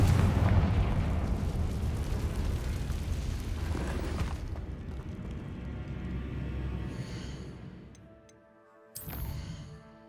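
A Confringo spell explodes in Hogwarts Legacy, giving a loud, rumbling blast that decays over several seconds, then a brief sharp burst near the end.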